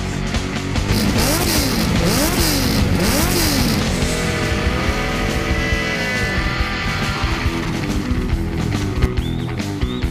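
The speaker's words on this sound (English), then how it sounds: "Rev up your engines!" A car engine revs hard in repeated rising and falling swoops, followed by a sustained higher-pitched whine over loud, busy background noise.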